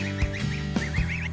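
Goslings and a mother goose call in a short burst: repeated high, wavering peeps from the babies run over several lower, nasal honks from the adult, all close and fairly clear with no talking.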